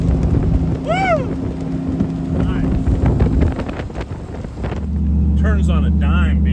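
An LS-swapped Jeep CJ-5 cruises at 80 mph, a loud constant engine drone mixed with heavy wind rush, with voices talking and whooping over it and the engine note settling lower near the end.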